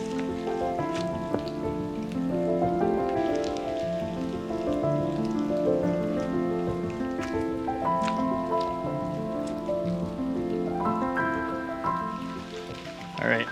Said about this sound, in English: Rain is just falling all over all of my gear.